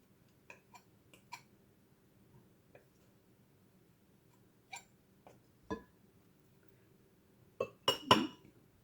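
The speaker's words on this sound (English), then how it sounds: "And now we're going to mix them all." Scattered light clinks and taps of a utensil against a glass bowl while mixing egg yolk and other cookie ingredients, faint and sparse at first, then a few louder knocks near the end.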